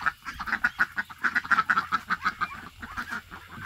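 Ducks quacking in a rapid, rhythmic series of loud honking calls, close by, with no talking.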